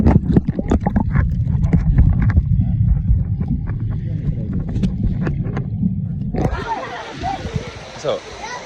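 People talk near a waterpark's tipping bucket, then the bucket dumps and a sudden loud rush of cascading, splashing water takes over near the end.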